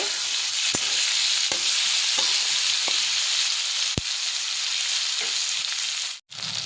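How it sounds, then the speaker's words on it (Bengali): Chopped onions frying in a pan with tomatoes, a loud constant close sizzle broken by regular sharp taps of a spatula stirring, then a brief sudden drop near the end. "পেঁয়াজটা একটু ভেজে নেব"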